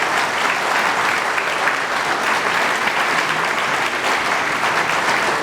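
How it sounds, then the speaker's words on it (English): A large crowd at a Marine Corps birthday ball claps loudly and continuously for a wounded serviceman, a thick wash of applause that holds steady throughout. "Give that wounded man a applause."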